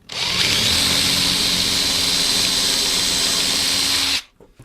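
A power drill drives a 4x25mm screw in a screw cup through a pilot hole into a wooden hand-sanding knob, a loud steady whine lasting about four seconds before cutting off abruptly.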